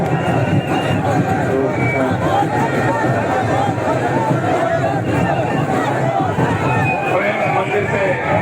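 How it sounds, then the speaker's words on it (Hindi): A dense festival crowd at the Panipat Dussehra celebration fills the air with loud, continuous hubbub and overlapping voices, close and unbroken throughout. "भीड़।"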